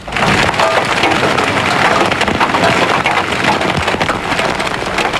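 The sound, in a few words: pea and marble-sized hail hitting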